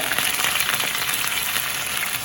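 Onion, fennel seeds, fenugreek and curry leaves sauté in hot oil with a dense, even crackling sizzle throughout, close and fairly loud, with no talking.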